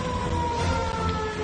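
A warning siren sounds before an explosives test, a loud sustained steady tone with a higher harmonic held throughout, heard alone without talk.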